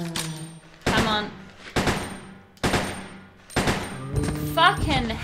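Gunfire rings out in Resident Evil Code Veronica X as enemies are shot: five or six loud, evenly spaced shots, each with a sharp crack and a ringing tail, close and prominent.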